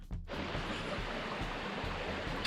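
A flowing creek rushes steadily and loudly nearby, a continuous broadband wash of water with no voices over it.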